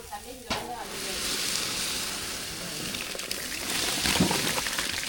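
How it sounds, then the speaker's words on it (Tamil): Water bubbles at a rolling boil in a cooking pot for rice, a dense continuous hiss and bubbling noise that stays steady and fairly close throughout. "நல்லா தண்ணி கொதிச்சிக்கிட்டு இருக்கு"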